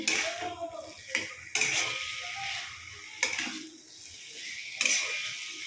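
Potatoes and pointed gourd are stirred with spices in a pan over high gas heat, giving a steady sizzle with several sharp scraping strokes of the spoon against the pan, heard close and alone.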